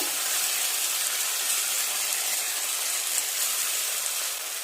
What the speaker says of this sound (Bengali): একটু নেড়ে চেড়ে সমস্ত মশলাটাকে এইভাবে একটু ভেজে নেব